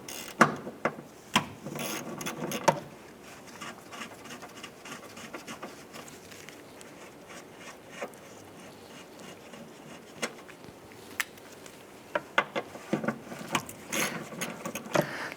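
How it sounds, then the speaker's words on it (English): A ratchet with a 9/16 socket loosening the two starter solenoid nuts on a 1993-1997 Ford Ranger, giving quick clicking bursts near the start and end with quieter handling noise between. "We're going to use our 9/16 socket. We're going to go ahead and remove the two nuts holding the electrical to this here."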